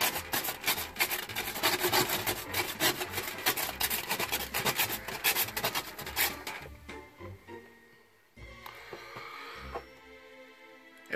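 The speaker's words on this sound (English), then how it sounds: "So I gotta use a scraper to clear a spot." An ice scraper rasps across an iced-up window in rapid repeated strokes for several seconds, then slows to a few scattered scrapes after a short pause, close and fairly loud with no talking.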